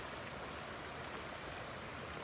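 Fresh stream water flows down from falls upstream near a bridge, a steady broadband rushing and babbling that stays even and continuous, fairly close with no voices.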